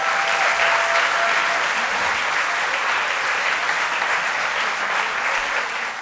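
An audience in a hall applauds performers at an acrobatics show, a full, dense roar of clapping that stays loud and even throughout with no talk over it.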